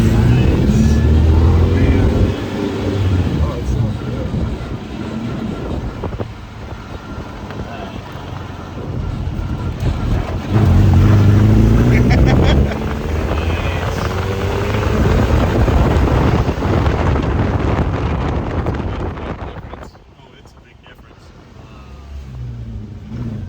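A Suzuki Samurai with new power steering, driven out after nearly a year off the road, its engine droning and rumbling steadily close by, revving up in surges and easing off near the end, with people talking over it.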